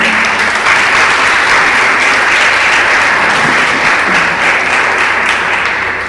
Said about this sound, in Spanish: Regálele al Señor un aplauso fuerte.